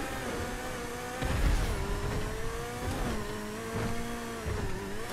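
A car in a GTA 5 Online custom stunt race revs hard with a rising and falling engine whine, a rough burst of tire and body noise breaking in partway through, steady and close throughout.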